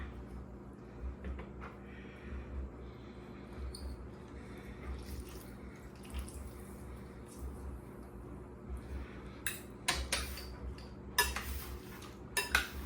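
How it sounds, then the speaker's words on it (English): A spoon stirs Spanish salsa with fresh lemon and lime juice in a bowl, giving faint, scattered clinks and soft scraping over a quiet background, with a few sharper knocks near the end. "I'm gonna mix that again"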